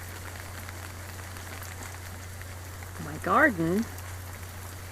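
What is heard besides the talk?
light rain in Southern California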